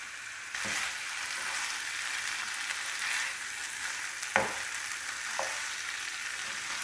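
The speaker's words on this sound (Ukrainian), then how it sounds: "Дати йому трішки підсмажитись і гарбуз, щоб вже був майже готовий." Pumpkin pieces fry in a pan for a pancetta and pumpkin pasta, a steady close sizzle with a few sharp clinks of stirring, and no talking.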